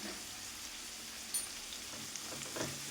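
Sliced onions sauté softly in a pan for a drumstick thoran, a faint, steady sizzle with a few small crackles and no talking.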